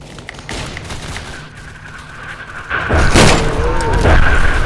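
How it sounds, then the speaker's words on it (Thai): An explosion in the Roblox WW1 trench-warfare game Entrenched: a heavy, loud blast hits partway through, following scattered distant gunfire and a faint voice, then a sustained rumbling roar. "ระเบิด"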